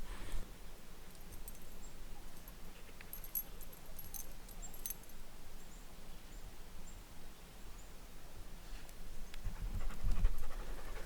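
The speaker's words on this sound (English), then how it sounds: "with him running around panting and the deer flies buzzing around" A dog panting steadily nearby, soft rhythmic breaths outdoors with faint jingling and light rustling in the background.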